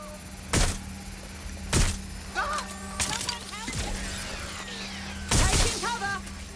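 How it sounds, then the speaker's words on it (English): Gunshots ring out in the video game Watch Dogs Legion. Several loud single shots and bursts sound close, and shouted game voices and other effects are heard between them. "Suspect's shooting!"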